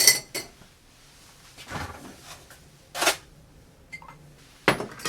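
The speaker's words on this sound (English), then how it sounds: "let's add some ice" Ice dropped into a cocktail glass or shaker, a few separate clinks and rattles spread over several seconds, close and clear with quiet gaps between them.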